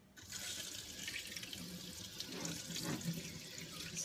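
Tap water runs steadily into a sink while a sealed kombucha bottle of pineapple brew is rinsed under it, a continuous close hiss and splash lasting throughout with no talk.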